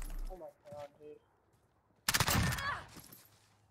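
A loud, close burst of MP7 submachine gun fire in Call of Duty: Modern Warfare erupts after a few seconds of quieter vocal sounds, then tapers into scattered softer shots.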